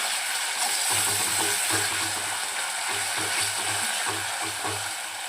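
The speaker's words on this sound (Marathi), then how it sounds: "छान याला परतून घेऊया आपण" Chicken pieces fry with ginger garlic paste in oil in a pan, a loud steady sizzle close by with rhythmic stirring scrapes repeating throughout.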